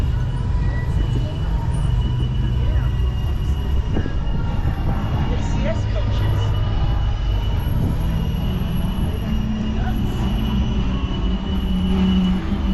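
CPKC Holiday Train coaches roll past close by, with a loud continuous rumble of wheels on rails, clacking joints and occasional squeals, as a person talks over them.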